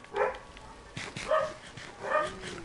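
A dog in the Minecraft video game gives three short, yappy barks with whimpering tones, fairly close, separated by brief pauses.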